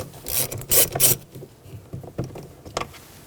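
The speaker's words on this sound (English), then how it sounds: "Take a T20 Torx bit and remove this screw." Screw being backed out of a 2008-2020 Dodge Grand Caravan sliding door inner handle panel with a T20 Torx bit: close, scratchy rasping and ratcheting bursts, louder early on, then lighter intermittent scrapes.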